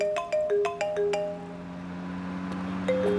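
A phone ringtone signals an incoming call: a quick run of bright, repeated chime notes, followed by a softer sustained tone that fades under room ambience before a short chime returns at the end.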